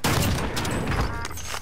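Sniper gunfire in a video game, a loud, close, dense blast of shots and booms that fills the whole moment with no pause and no voices.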